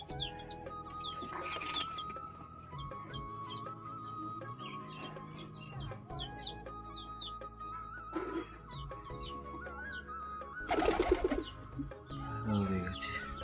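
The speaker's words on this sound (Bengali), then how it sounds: "আমার কিছু কবুতর, সেটা তোমাদের তুলে দেখাচ্ছি" Pet pigeons coo and flutter close by in soft, repeated calls, with a few louder bursts of wing noise and scattered bird chatter throughout.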